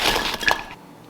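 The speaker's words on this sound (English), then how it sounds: "Now I'm adding 1 pound of frozen broccoli." Frozen broccoli drops into a crock pot with a sharp, brittle clatter of hard icy pieces striking the pot in one quick, close burst that dies away within a second.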